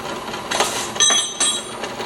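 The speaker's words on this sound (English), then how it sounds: "Do that with this belt sander." A belt sander grinds rust off the steel mount for a tractor chopper knife, a loud rasping broadband whir that surges in pulses as pressure is applied, with no talking.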